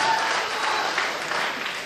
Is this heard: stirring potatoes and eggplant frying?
no